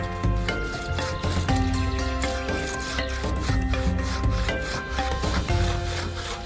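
A wooden Cirebon mask is carved to shape its nose, giving steady scraping and rasping strokes in a fast rhythm, close and prominent over a sustained musical background.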